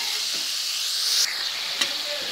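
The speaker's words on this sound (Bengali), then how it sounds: "আমি ব্রকলিগুলো দিয়ে দিচ্ছি, এর মধ্যে আমি ফ্রাই করে দিচ্ছি" Broccoli frying in a pan with spices and a splash of water: a loud, steady sizzle and hiss near the pan, with a brief flare of louder sizzling midway and a short scrape later.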